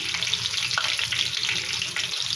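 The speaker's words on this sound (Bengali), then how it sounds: "আলুগুলো ভালো করে ভেজে নেব" Potatoes frying in hot oil make a continuous, close hissing sizzle with fine crackling throughout and no voices over it.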